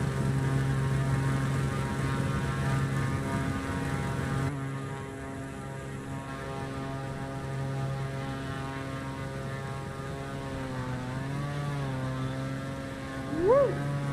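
A propeller airplane engine in Microsoft Flight Simulator on Xbox Series X drones steadily and loud, its pitch shifting and rising near the end as the throttle is pushed up, with no talking.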